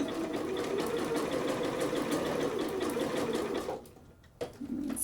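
A sewing machine stitches knit fabric in a fast, even mechanical whir that runs steadily for about four seconds, then stops, followed by a brief knock and a short restart.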